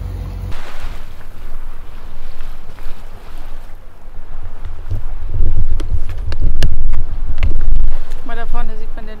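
Sailboat running steadily through open water in a strong Mistral off Mallorca near Cap Formentor, with continuous wind and water rush, heavier surges of spray in the middle, and voices talking over it.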